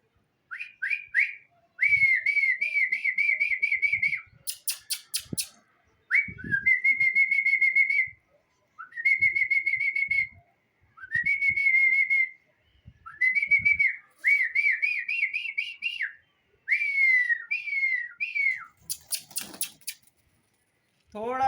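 Repeated close, loud human whistling calls trained pigeons back to the hand, sustained warbling phrases broken by short pauses, with faint rustles and bumps underneath.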